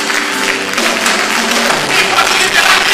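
A church congregation claps loudly and continuously, a dense, steady wash of applause filling the room over a faint sustained musical tone underneath.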